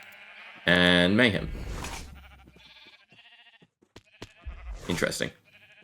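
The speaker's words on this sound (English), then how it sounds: "Summon a bunch of sheep again." Minecraft sheep in the Runechant mod bleat loudly in a near cluster of wavering cries at the start, with a second burst of bleats later, while someone talks over and between them.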